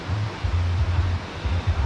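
Tad Yeung waterfall in southern Laos, a steady broadband roar of falling water mixed with low wind rumble on the microphone, continuous and fairly close throughout.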